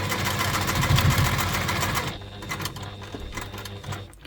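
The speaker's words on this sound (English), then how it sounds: "And then we're just going to sew another box, square box, X box on it." A sewing machine stitching a box-X pattern onto webbing for a packing pod bag: a fast, steady mechanical stitching rattle, close and loud, then it stops and slower intermittent clicks and handling noises follow.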